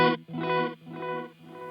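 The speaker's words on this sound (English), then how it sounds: "It's just a straight delay." Electric guitar played through a Keeley Mesmer Astral Delay pedal on a straight delay setting, a sustained chord followed by two fading repeats, each echo slightly softer and smeared, close and alone.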